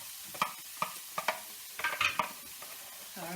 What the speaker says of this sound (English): Nice sizzle. nice sizzle sound.